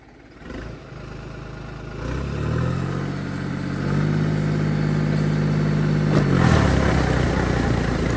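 A rice paddy transplanting machine's small engine starts and runs close by, its steady hum rising in pitch and holding, then easing off near the end with a brief rev.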